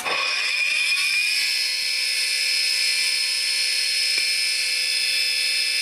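A dishwasher pump motor overdriven by a VFD spins up within a second into a loud, steady, high-pitched whine that holds without a break.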